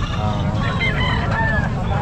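Chickens at a crowded pet market in Calumpit, with overlapping clucks and squawks and a brief crow rising through a dense hubbub of people talking nearby.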